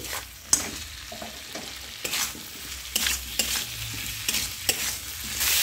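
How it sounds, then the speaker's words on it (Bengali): Pointed gourd and potato are stir-fried with spices in a village-style kitchen. A close, steady sizzle runs underneath while a spatula scrapes and knocks against the pan in irregular strokes, and no one speaks. "এবার মশলার সঙ্গে পটল আর আলুটা ভালো করে কষিয়ে নিচ্ছি।"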